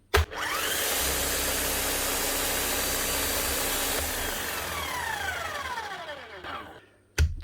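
The motor of a Bosch demolition hammer on the bench runs steadily and smoothly at a loud, even whine. It stays constant for several seconds, then winds down and stops, with a knock at the start and end.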